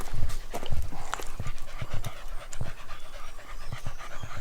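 Several dogs pant in quick, steady rhythm while out on a walk along a greenway path, the breathing close and continuous with faint footfalls mixed in.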